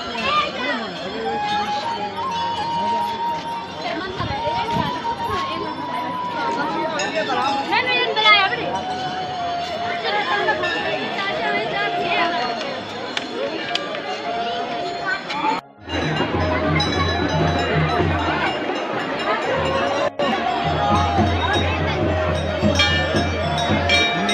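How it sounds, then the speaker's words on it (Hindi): A dense crowd chatters inside a Hindu temple on Janmashtami, with many overlapping adult and children's voices, footsteps and occasional clinks, loud and close throughout, with a brief dip near the middle. "मंदिर में बहुत ज्यादा भीड़ है"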